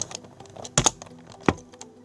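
Computer keyboard typing, a few soft scattered keystrokes with two sharper clicks, close and quiet.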